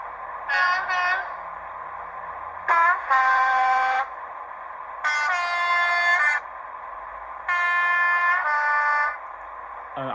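A Hornby model train's horn sounds four times through an enhanced speaker, short tones then longer held blasts with pauses between, over a steady electronic hum.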